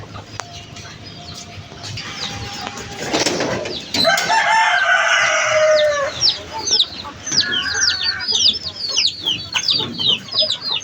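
Chickens cluck and squawk close by in a busy chorus, with a rooster crowing partway through and rustling movement around them.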